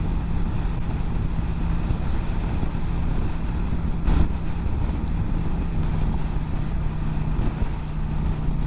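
Wind roars steadily around a rider on a Kawasaki Vulcan 900 motorcycle at freeway speed, a dense continuous buffeting rush with a brief gust-like thump midway.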